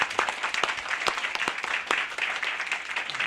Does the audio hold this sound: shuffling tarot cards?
no